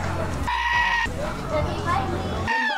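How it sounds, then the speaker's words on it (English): A goat bleats a few times in short wavering cries at a pumpkin patch while people chatter nearby. "It's a goat"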